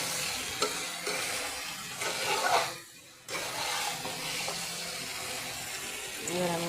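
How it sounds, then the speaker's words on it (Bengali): Water poured into a pan of egg curry with spices, a steady broadband splashing and sizzling that runs for several seconds with a short dip in the middle, close and fairly loud. "এবার আমি জল দিয়ে দিব।"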